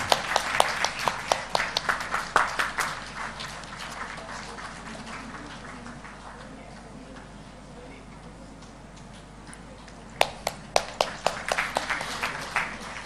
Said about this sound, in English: Please give a huge round of applause for Sachin sir.